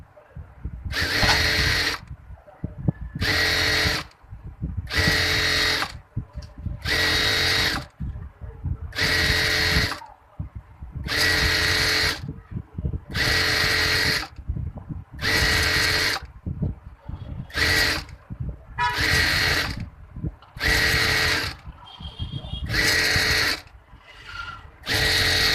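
A sewing machine stitches the hem of a baby frock in about a dozen rapid whirring bursts separated by short pauses, loud and close, with faint handling clicks between runs.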